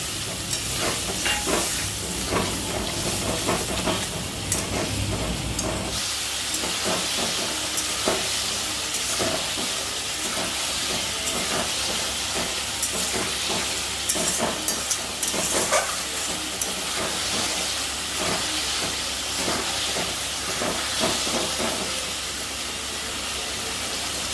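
Spiced fish sizzles in a hot pan after water is added, a loud, steady hiss of frying and steam that carries on without a break and eases slightly after the first few seconds.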